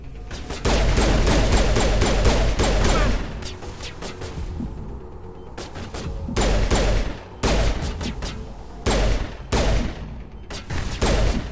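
Mass Effect combat gunfire: loud, rapid bursts of automatic weapon shots with heavy thumping impacts, broken by short pauses between volleys and resuming repeatedly.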